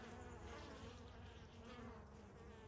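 Honeybees at the hive entrance on a warm winter day, a dense continuous buzzing drone from many bees, close and steady with no speech.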